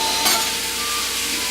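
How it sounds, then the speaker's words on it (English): Minced meat fries with caramelizing onions in a pan for tourtière, a loud, steady, close sizzle with a brief stirring scrape near the start. "Internet's favorite food, minced up, goes into the caramelizing deliciousness of the onions."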